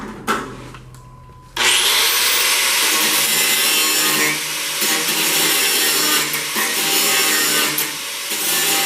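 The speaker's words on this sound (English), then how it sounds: "Then we'll take the grinder." An angle grinder works on metal parts of a 1938 Dodge in a shop, a loud, steady whine that starts abruptly after a brief quiet stretch and runs continuously, with slight dips in pitch as it bites.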